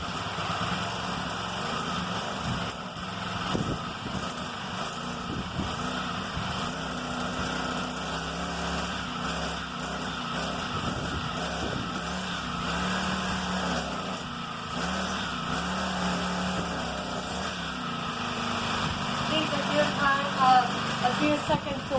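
A pit bike engine idles while warming up, a steady light buzzing putter with a constant rumbling hum that continues throughout, moderately close with some background noise.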